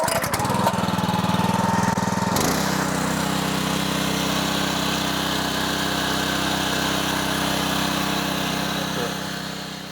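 A Honda engine runs steadily on a Split-Fire 2265 log splitter, a close, loud, even drone after a brief rougher stretch at the start, with no talk.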